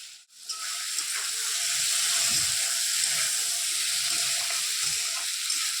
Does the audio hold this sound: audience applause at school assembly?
no